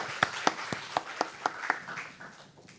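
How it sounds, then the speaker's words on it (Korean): A church congregation gathered for an Easter service gives a sparse round of applause, about a dozen distinct claps at a steady rhythm, fairly faint and thinning out toward the end. "박수로 환영합니다."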